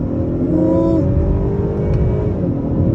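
A 2022 Honda Accord 2.0T Touring engine droning loudly from inside the cabin, its pitch sliding and shifting as it revs through downshifts under braking.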